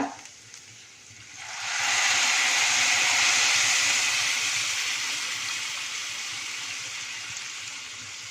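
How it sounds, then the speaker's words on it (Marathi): Hot water is poured into a pot of Maharashtrian masala rice mixed with jaggery, and it breaks into a sudden loud hissing sizzle after a quiet second, then slowly fades while still rushing. "आता गॅस इकडचा बंद करूया आणि यामध्ये गरम पाणी घालूया"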